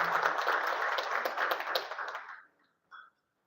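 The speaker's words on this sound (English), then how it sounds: "Please give her a big round of applause." An audience at a digital marketing workshop for hotel members in Timor-Leste claps as a guest speaker is welcomed. The applause is dense and fairly close, then fades out, and one short sound follows after a pause.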